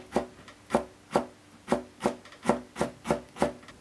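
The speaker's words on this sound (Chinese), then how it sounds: "最后切成小碎丁。" A knife chops a carrot into small dice on a wooden board, eight crisp, evenly spaced strokes at a steady rhythm, close and clear with no talking.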